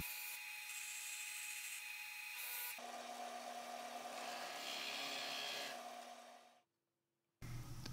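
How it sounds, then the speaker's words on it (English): A power drill with a Forstner bit bores shallow holes into a wooden meat board. A steady whirring whine shifts pitch partway through, cuts out into near silence, then starts up again at the end. "I use a Forstner bit to drill shallow holes for the feet to be set in."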